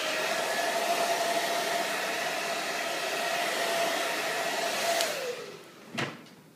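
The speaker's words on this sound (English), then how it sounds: "I'm gonna secure it with the blow dryer really quick with warm air" A hair dryer on low warm air blows with a steady whooshing hum, then switches off and winds down, followed by a brief knock.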